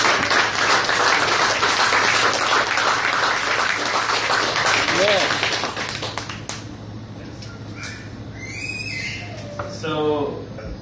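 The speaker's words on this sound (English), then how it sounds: "Give yourself a round of applause." Applause from founders and attendees at a Startup Weekend event in Fairfield, a dense wash of clapping for about six seconds that thins into scattered claps, with a voice speaking over it.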